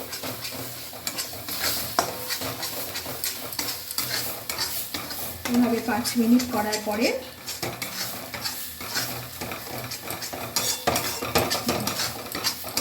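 A spoon scrapes and stirs cauliflower-leaf paste frying in oil in a wok, a steady close clatter with a soft sizzle and brief tonal sounds in the middle.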